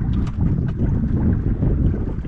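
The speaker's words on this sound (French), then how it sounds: "C'est le retour du vent." Strong southwest wind on the Finistère coast of Brittany buffeting loudly and continuously, a dense low rumble with gusty fluctuations.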